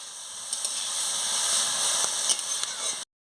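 Chopped banana stem (thor) sizzles steadily in a pan while being stirred, a continuous bright hiss with faint scraping clicks, close and moderately loud, then cutting out abruptly near the end.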